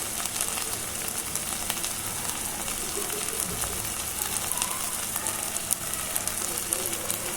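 Mackerel fish frying in oil, a dense, even crackling sizzle with scattered pops, moderately loud and continuous from start to finish.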